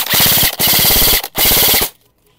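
An airsoft gun shooting on full auto, stock spring around 380 FPS, fires three rapid rattling bursts separated by short breaks, loud and close, then falls silent.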